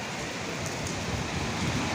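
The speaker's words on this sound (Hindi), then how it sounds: "देखो बारिश हो गई," Heavy rain pours down in a dense, hissing roar, loud and constant with a gusty wind edge, and no one speaks.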